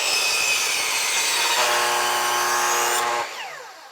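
A power saw rips through a wooden board being cut for a shed roof truss, a sustained loud whine with the blade under load that lifts in pitch, then spins down as the cut finishes.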